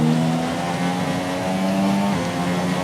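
A Ferrari Formula 1 car in the F1 2017 racing game gives a loud, steady high-pitched engine whine that shifts pitch slightly as it holds speed, close and continuous with no talking.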